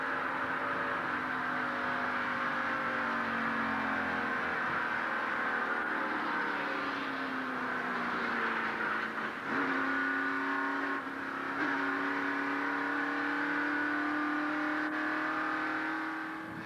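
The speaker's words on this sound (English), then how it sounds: "Now here is a real-time replay of the crash from inside Jeff Bodine's car." An in-car view of stock car racing at Talladega during a 1989 Winston Cup race crash: a loud, sustained engine drone that dips in pitch, briefly falters, then climbs back and holds steady, with no talk.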